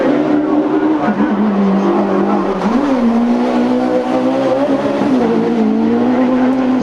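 A rally car at the Manx International Rally races flat out over a harbour bridge at about 70 mph. The engine drones loud and steady, its pitch sagging and rising as the car holds speed, all heard from close by.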